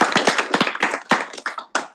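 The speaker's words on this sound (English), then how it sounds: "Please give him a big round of applause" Sparse applause at a Senate gathering for a dean of global education, a small group clapping unevenly in close, distinct claps for about two seconds.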